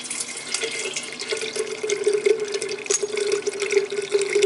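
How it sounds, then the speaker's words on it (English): Homebrew wort recirculates during sparging, a steady close trickle and splash of liquid pouring with a faint high drip-like sparkle throughout. "So what we're going to do is recirculate the wort until it's clear."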